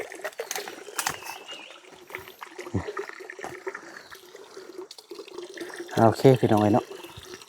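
Water runs and splashes steadily while something is rinsed off in a remote forest home, with someone talking over it and a brief louder burst of speech near the end.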